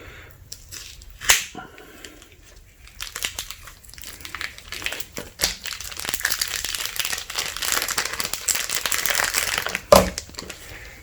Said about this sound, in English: We'll just cut open the package